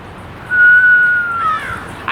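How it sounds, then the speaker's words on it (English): A person whistles one steady, clear tone held for about a second, then a shorter, slightly lower note, close and fairly loud over a quiet background. "Can you whistle?"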